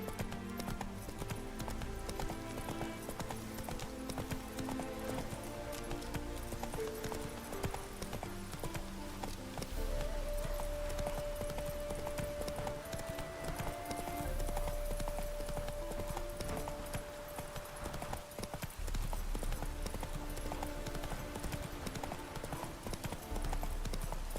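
Horse hooves trot in the video game The Witcher 3: Hearts of Stone, a steady, continuous clip-clop rhythm running throughout over game music and ambience.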